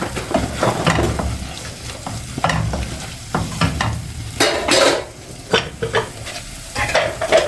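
A spoon scrapes and stirs diced eggplant sizzling in a hot pan with sauce and spices, in repeated bursts of scraping over a steady frying hiss.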